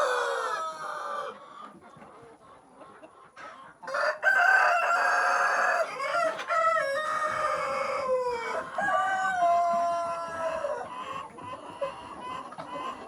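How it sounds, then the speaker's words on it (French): Purebred Brahma chickens on a breeding farm: a rooster crows several times, loud and near, over steady hens' clucking and other fowl calls throughout. "ici nous faisons dans l'élevage des races pures de poulets Brahma"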